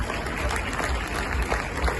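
Audience applause at the closing ceremony of Bhopal Utsav Mela 2025, a brief spell of scattered clapping, fairly faint and heard over a low hum.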